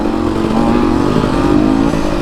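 Yamaha YZ250F dirt bike engine while riding, a loud, close, continuous buzzing drone holding a fairly even pitch throughout.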